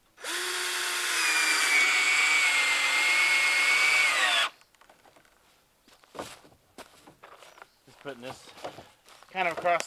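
A power drill drives screws through a tin sheet into plywood on a pallet-built hog house, loud and close, whirring steadily for about four seconds, then footsteps and faint handling noises follow.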